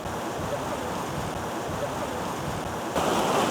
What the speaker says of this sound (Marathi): आत्ता मी जिथे उभा आहे ते आहे मढेघाट धबधब्याचा टॉपचा पॉईंट जिथून हा धबधबा खाली दरीमध्ये कोसळत असतो